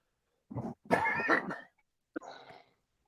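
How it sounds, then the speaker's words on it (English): A few close, dry coughs in quick succession, followed by a brief pause and one softer cough. "I'm starting to cough a little bit"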